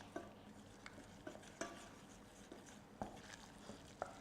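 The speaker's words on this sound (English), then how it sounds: "We place it on the heat and cook it for the 1 minute to cook the starch." A flour and butter roux cooks in a pan on the heat, giving a soft, steady sizzle with occasional sharp clicks of a utensil stirring and scraping against the pan.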